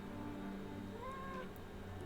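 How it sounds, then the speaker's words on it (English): A cat meows in the Nancy Drew: Mystery of the Seven Keys video game, a short quiet mewing cry over a faint steady background hum. "that a cat meowing?"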